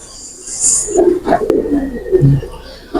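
Noir pigeon cooing close by in a loft, a few soft low throaty coos spread over about three seconds, with a brief higher chirp early on and faint background noise.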